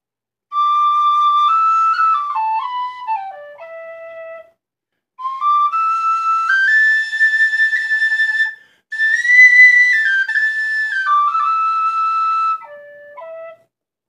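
An Irish whistle, a Fidog from around 1980 with its original body, plays a slow melody in three phrases, clear, bright and close, with smooth slides between notes and brief pauses for breath.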